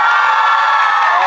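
A dense crowd at a fan club anniversary gathering claps and cheers loudly and continuously, a sustained wash of applause with no pauses.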